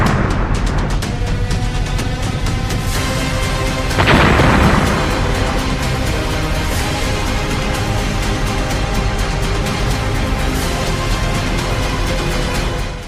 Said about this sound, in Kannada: ಎಂಥವರ ಗುಂಡಿಗೆಯಾದ್ರೂ ಒಂದು ಕ್ಷಣ ನಿಲ್ಲುವಂತಹ ಘನಘೋರ ಸ್ಫೋಟದ ಸದ್ದು